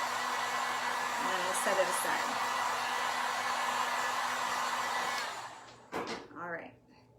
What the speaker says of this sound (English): And then heat gun real quick on this one.